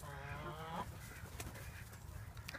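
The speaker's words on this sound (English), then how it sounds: "excuse me while I get attacked by a rooster." A rooster at a backyard chicken coop converted from a garden shed gives a short crowing or clucking call near the start, followed by rustling and scuffling close by; the loudest burst comes in the first second.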